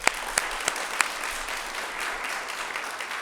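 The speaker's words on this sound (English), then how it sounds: "one more round of applause" Applause from an audience at a launch event for a new teacher-training program, steady dense clapping with a few sharp louder claps near the start, moderately distant and alone, no talking.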